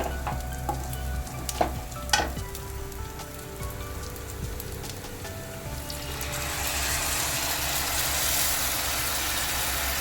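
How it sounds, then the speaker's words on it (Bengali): Rice stirred in a pan while making basanti pulao, a few scraping knocks early on giving way to a steady, close hiss and sizzle that grows louder and denser in the second half. "চাল দিয়ে আমি নেড়ে নেবো ভালো করে।"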